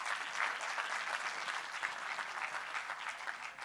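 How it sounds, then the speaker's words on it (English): An audience at an event breaks into sustained applause, a dense, even roar of many hands clapping that holds steady from start to finish. "Very big round of applause for the guy."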